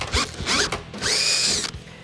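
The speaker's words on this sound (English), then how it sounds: "So now we get to drill the holes." A power drill bores holes for mounting a motorcycle saddlebag: several short whirring bursts, then a longer sustained drilling run, close and fairly loud, with no talking.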